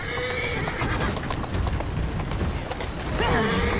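In the video game Assassin's Creed Syndicate, a horse whinnies over steady clip-clopping hooves, with a second neigh near the end; a voice speaks briefly amid the noise.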